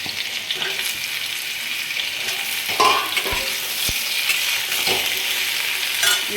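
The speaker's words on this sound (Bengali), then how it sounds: "আলুটা একটু ভাজা হয়ে এসছে, এবার বেগুনটা দিয়ে দেব" Potatoes and brinjal frying in a pan while being stirred, a continuous sizzle broken by several clanking scrapes of the spatula, close by with no voices.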